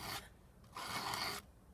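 A file rasps across a chainsaw chain in two separate strokes, one short and one longer, each with a harsh, bright scraping edge, close up and with no voice over them.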